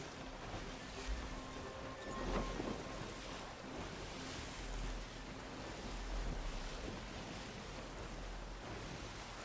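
A ship sailing the open ocean in Sea of Thieves rides on a continuous rush of surf and waves, with wind roaring steadily over the water and no voices.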